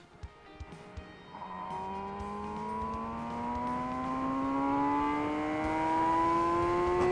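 A high-pitched inline-four MV Agusta Brutale RR motorcycle engine revs up steadily toward its 13,000 rpm red line, its whine climbing in pitch over several seconds, growing louder with no one speaking.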